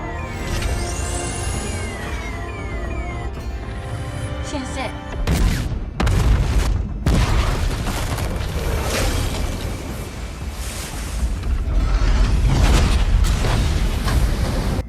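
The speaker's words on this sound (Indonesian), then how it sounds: "Ledakan besar terjadi yang membuat air laut terangkat dan jatuh kembali." A heavy film explosion at sea bursts out amid dense rumbling and crashing noise, followed by a sustained roaring wash of seawater thrown up and falling back.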